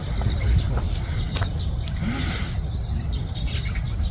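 Birds chirp in the trees of Yongsan Park in the morning, scattered short tweets and calls over a steady background hum, moderately near.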